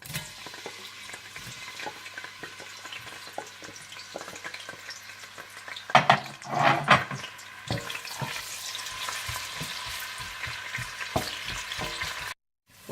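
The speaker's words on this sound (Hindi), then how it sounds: "इसके बाद आप देसी घी गरम कर लें और इसमें प्याज डालकर इन्हें आप गोल्डन ब्राउन कर लें।" Onions fry in hot desi ghee with a continuous close sizzle. A utensil stirs them in regular scraping strokes, with a louder burst of crackling midway, and the sound cuts off abruptly near the end.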